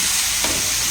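Paneer roll filling stirred in a hot pan gives a short, loud burst of sizzling with a soft scrape of the spoon, close and continuous, and no talking.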